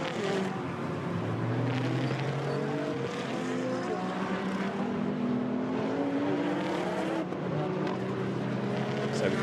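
GT4 race cars, a McLaren and an Aston Martin, running at Paul Ricard toward the chicane, engines roaring and shifting pitch continuously and loudly as they pass, with a commentator talking over them.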